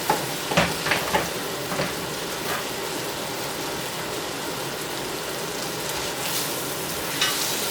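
A marinated T-bone steak sizzling in a pan, a dense steady crackle like rain with a few sharper pops and clicks early on, close and with no talk.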